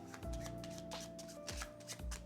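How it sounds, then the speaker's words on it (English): A deck of playing cards is shuffled during a card magic demonstration, with rapid riffling and flicking bursts in close succession, quiet but near. "let's give these a shuffle"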